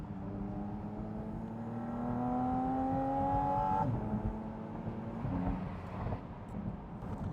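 A Porsche 718 Spyder RS with the top open revs hard toward 9,000 RPM, its engine note climbing in a loud, rising scream, then cutting off sharply into a lower, rougher idle and burble.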